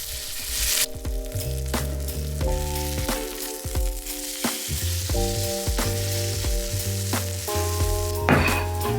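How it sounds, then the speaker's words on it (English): Korean vegetable pancakes fry in a pan, a steady sizzle running for the full nine seconds beneath prominent background music, with a few soft knocks. "Basically you just mix everything again and then you just fry it."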